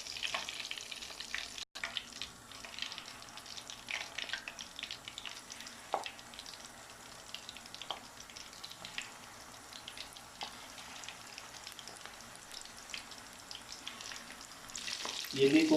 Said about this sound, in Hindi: माशाल्लाह ज़बरदस्त हमारे कोफ्ते फ्राई हुए हैं